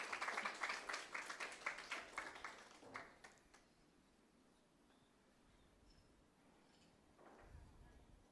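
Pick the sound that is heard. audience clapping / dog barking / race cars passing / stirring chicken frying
audience clapping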